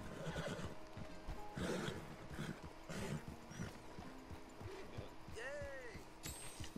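A horse in a video game neighs with a rising whinny while hooves clip-clop in a steady rhythm, close and fairly loud, with someone talking over it.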